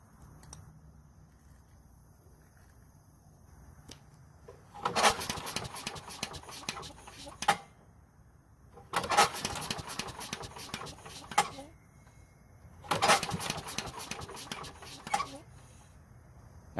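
A worn small engine on a lawn vacuum is cranked by its starter rope three times, each pull a loud rasping whir of a couple of seconds separated by quiet pauses.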